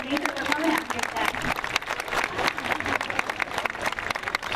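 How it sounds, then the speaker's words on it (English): An audience at a sea lion show at a marine park applauds, with dense, uneven clapping spread across the whole stretch, fairly close, with a voice speaking over it near the start. "let's give her a nice big round of applause"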